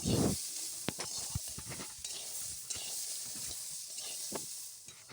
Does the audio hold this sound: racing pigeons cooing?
no